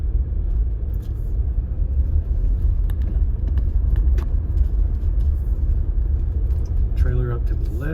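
A car rolls along a little gravel country road, a steady loud rumble of engine and tyres throughout, with no talk over it.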